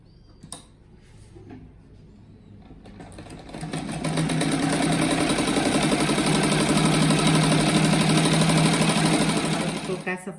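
Sewing machine stitching a pineapple-pattern rug: a soft start, then a steady, rapid mechanical whirring chatter that builds and runs for several seconds up close before stopping abruptly.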